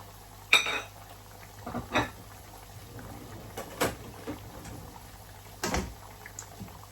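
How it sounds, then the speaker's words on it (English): Seasonings of cayenne, paprika, Italian seasoning, basil, parsley and salt being stirred in a kitchen pan, heard as a few sharp metallic clinks and scrapes spaced over a quiet background. "And just stir."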